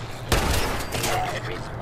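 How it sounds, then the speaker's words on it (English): Gunfire in the video game Fallout 76 rings out as a sharp burst of shots followed by rolling echoes, with a voice present. "I hear gunshot."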